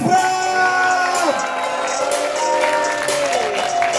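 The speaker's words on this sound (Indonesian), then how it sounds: "Sekali lagi tepuk tangan yang meriah untuk Mas Pram." Applause and cheering from an audience at a public event in Jakarta, steady clapping mixed with whoops, shouts and voices calling out throughout.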